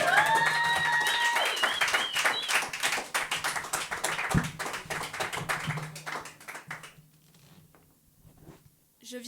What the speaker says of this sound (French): sous vos applaudissements, Mathilde